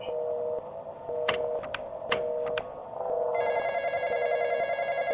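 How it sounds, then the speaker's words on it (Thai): Telephone ringing inside the Roblox game The Intruder, a repeated electronic ring tone pulsing in short bursts amid clicks, then shifting to a brighter sustained ringing toward the end. "มีคนไปรับโทรศัพท์ยัง"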